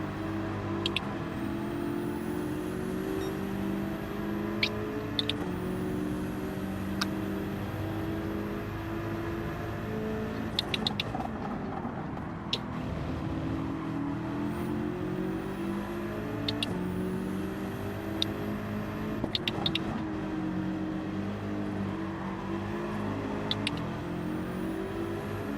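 Audi R8 race car engine in a racing video game, a steady loud engine drone with repeated rising revs and shift cuts through the gears, heard alone without talk.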